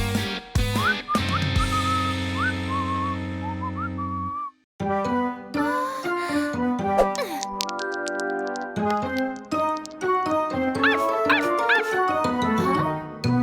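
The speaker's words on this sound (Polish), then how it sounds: "To na pewno było szczeknięcie." Cartoon dog barks from a Polly Pocket animated scene, a few short yips and woofs amid bright whistling music and sound effects, fairly loud and near.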